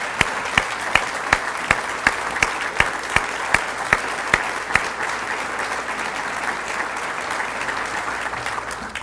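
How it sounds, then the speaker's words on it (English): Audience applause fills a luncheon hall, a steady wash of many hands clapping with several sharper individual claps standing out early on, holding at an even level throughout. "Can we have a nice round of applause for the sacrifice he gave?"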